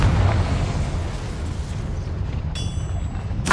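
Confringo blasting spell going off in Hogwarts Legacy, a deep rumbling blast with a sustained low boom, followed by sharper bursts near the end, loud and without talk.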